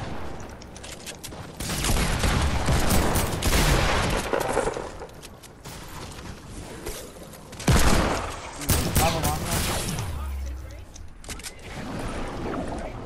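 Gunfire in an Xbox video game: dense bursts of rapid shots and explosions that come and go in loud waves, with players talking over the action.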